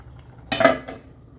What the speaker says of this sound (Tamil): அப்படியே மூடி வச்சிடலாம்.